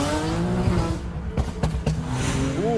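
A car engine roars steadily and loudly throughout, with deep rumbling tones, sharp revving surges and a few brief bursts, close and without speech.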